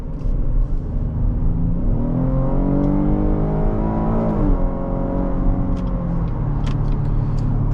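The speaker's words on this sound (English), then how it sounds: "The engine sounds magnificent." A 2022 Cadillac XT5 with the 3.6-litre engine and AWD pulls away under throttle, its smooth engine note rising steadily in pitch and loudness, then settling into a steady cruising hum with road rumble and no talking.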